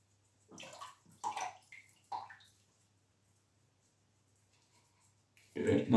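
Water splashes in short bursts as a face is wetted at a basin before shaving, with three separate close splashes followed by a quiet pause and then a louder final splash.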